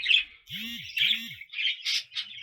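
Budgerigars chirp and chatter in quick, bright bursts, several calls overlapping close by.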